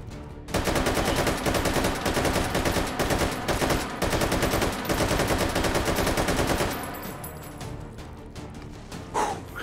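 RPK machine gun firing in Hot Dogs, Horseshoes & Hand Grenades, a long loud sustained automatic burst of about six seconds, then fading into quieter ambience with a faint later shot.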